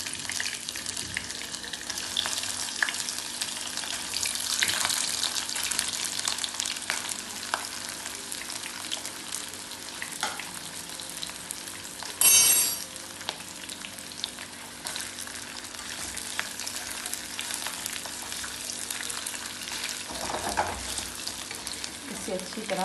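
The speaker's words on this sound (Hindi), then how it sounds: "इसे मैं शैलो फ्राई कर रही हूँ। घी गरम हो गया है अच्छी तरह, तो चलिए इसमें कबाब डाल लेते हैं।" Chicken kebabs shallow-fry in hot ghee with a continuous crackling sizzle, occasional spatula scrapes and one sharp clatter midway.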